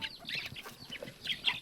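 A chicken clucking in a quiet rural yard, a few soft, scattered calls at a moderate distance with faint background noise.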